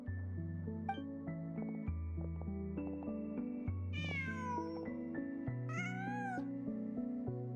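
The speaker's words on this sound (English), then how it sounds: "Just a cat." A cat in the video game Genshin Impact gives two drawn-out meows, close and clear, over a soft, steady musical score.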